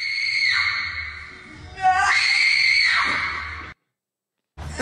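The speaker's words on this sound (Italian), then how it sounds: "poi ho sentito urla" A person screams loudly in a gym, a sustained strained cry that breaks and rises midway, then falls silent before another burst begins.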